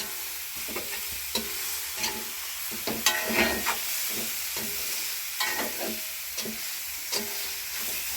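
Chicken curry stirred in a pot: repeated spoon scrapes and clatters at an irregular pace over a constant close sizzle, with no voices.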